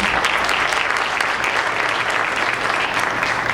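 A crowd at a school board meeting claps steadily and energetically for teachers of the year, dense applause filling the whole moment without pause.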